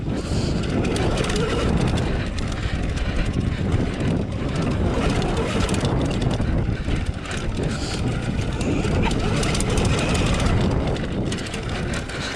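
A motorcycle ridden on a very short track circuit during a shakedown, its engine roaring steadily and loud throughout with heavy wind rush, the pitch rising and falling as it accelerates and brakes through tight corners.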